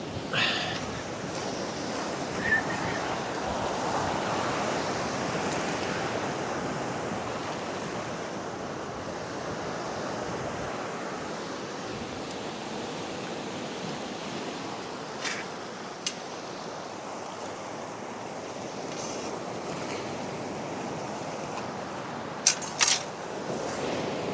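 Sea waves breaking on the beach at Ryhope in North East England: a continuous broad roar of surf with wind rushing over it, steady and fairly loud, with a few faint clicks near the end.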